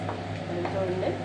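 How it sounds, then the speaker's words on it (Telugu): Eggs fry in a pan for egg fried rice, giving a soft, steady sizzle with faint stirring scrapes, close up and moderately quiet, with a voice faintly audible in the background. "చూడండి, ఫ్రై అవుతున్నాయి."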